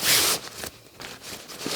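A J-shaped zipper on an Osprey Ariel 75 women's internal-frame backpack is pulled open, a close scratchy zipping rasp in a couple of uneven strokes with no voices.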